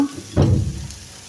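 Chicken sautéing in butter in a pan gives a short burst of sizzle and stirring that swells after a quiet start, then settles into a steady low fry.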